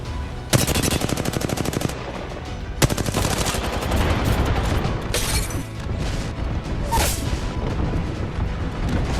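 An airstrike in the video game Apex Legends sets off loud rapid bursts of gunfire-like blasts and booms, with two sharp volleys starting near the beginning and then a dense rumbling barrage that fades toward the end.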